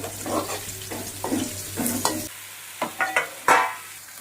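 Mustard seeds, cloves and curry leaves are dropped into hot oil in a pan for pulav, giving bursts of sputtering and spatter plus a few sharp crackles. A low hum stops partway through, and no one speaks.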